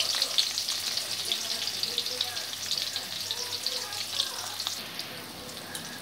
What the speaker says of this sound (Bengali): আমি করলাগুলো ভেজে নেব, সব একবারে দেবো না, দু তিনবারে ভেজে নেব।